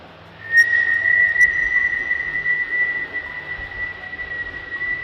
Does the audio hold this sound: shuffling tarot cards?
no